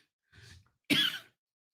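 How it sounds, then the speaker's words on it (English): Two coughs, a soft muffled one followed by a sharper, louder cough, with nothing else around them. "I'm sorry for the coughs."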